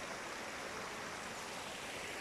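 A woodland stream flows under a cattle feeder laid as a bridge, a steady broadband rush of water heard up close, quiet and unbroken, with no talk.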